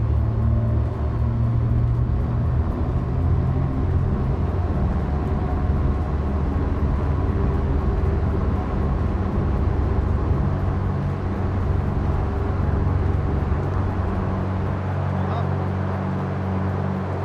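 Twin-engine Beechcraft Baron in the X-Plane 12 flight simulator with power coming up, a steady, loud low engine drone and rumble that holds evenly throughout with no break.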